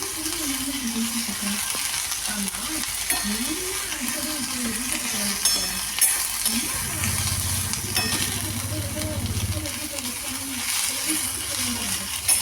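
Onions sauté in plenty of oil for tomato chutney, giving a steady, even sizzle with light stirring that lasts the whole stretch. A voice talks over it at times.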